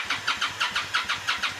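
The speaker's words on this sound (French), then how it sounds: "Ah, il a une grosse moto." A big motorcycle engine starting: a quick, regular run of about ten rhythmic chugging pulses at moderate volume, with no talk over it.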